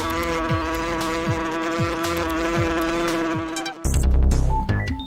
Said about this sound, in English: Then along come the deer flies and horse flies in June and July.